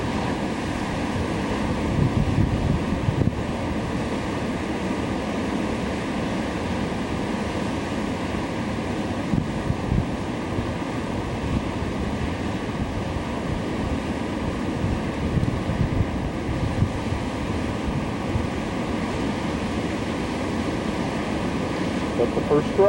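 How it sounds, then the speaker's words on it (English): Steady ocean surf and gusting wind rush along without pause as rain sweeps in across open water, a dense broadband wash with low rumble holding at an even, fairly loud level throughout. "Here comes the rain. Coming right across the ocean."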